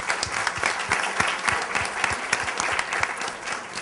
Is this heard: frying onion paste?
no